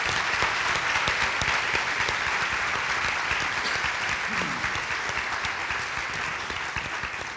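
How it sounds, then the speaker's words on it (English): An audience applauds a panel discussion, dense sustained clapping filling the room steadily from start to finish with no talk over it. "let's give a huge round of applause to our panel"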